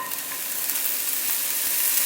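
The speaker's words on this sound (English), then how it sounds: "you want to get that really good sizzle, get some really good color on those mushrooms" Birch mushrooms sizzle steadily in smoking-hot olive oil in a cast iron pan, a close, even frying hiss that holds at the same level throughout with no voices.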